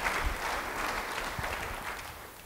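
Congregation applauding at a church service after a pastor's sermon, a steady dense clapping wash that fills the whole stretch at an even level with no talk over it.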